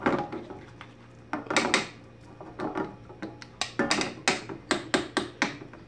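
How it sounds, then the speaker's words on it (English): Eggs for an omelet are stirred in a pan, giving repeated clinking, scraping strokes of a utensil against the pan in an irregular rhythm, close and moderately loud with no talking. "Stirring up, stirring up."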